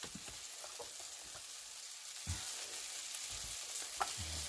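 Spaghetti squash fritters frying in a pan over lowered heat, a soft steady sizzle with occasional crackles and light utensil taps, close but fairly quiet, no voices.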